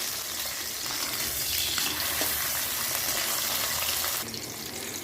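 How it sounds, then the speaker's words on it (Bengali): Pomfret, lightly coated in flour, frying in hot mustard oil in a kadai, a loud, dense, continuous sizzle close up that eases slightly near the end. "কড়ায় সর্ষের তেল গরম করে নিয়েছি মাছটা ছেড়ে দিলাম"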